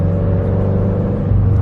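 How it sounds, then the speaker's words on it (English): Scion FR-S sports car driving in San Diego, its engine a steady low rumble with whirring road noise heard from inside, continuous and loud with a slight swell near the end. "Last drive in the FRS in San Diego."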